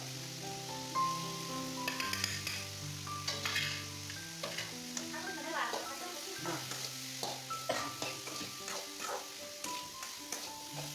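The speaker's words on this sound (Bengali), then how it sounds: "আলু আর কপি আগে কষাই নিতেছি" Potatoes and cabbage stir-frying in a pan, a soft sizzle under tonal background sounds, with intermittent scraping and stirring clicks.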